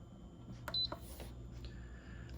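Instant Pot giving a short electronic beep as the pressure cook button is pressed, a single brief tone among soft clicks and quiet room noise.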